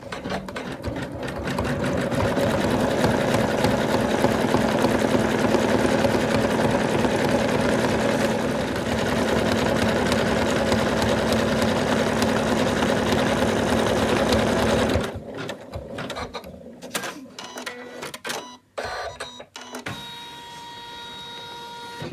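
An embroidery machine stitches four placement lines for an in-the-hoop Santa doll, a loud, fast, even mechanical whirring for about fifteen seconds that then stops, leaving a few scattered clicks and handling noises.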